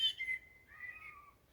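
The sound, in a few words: blackbird singing fluty evening song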